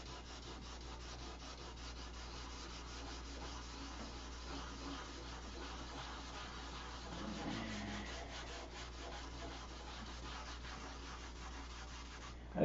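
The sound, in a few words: sanding wood smooth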